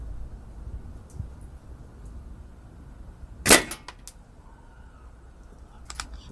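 A Stoeger XM1 air rifle fires one sharp, loud pellet shot outdoors, followed by a faint impact and quiet background.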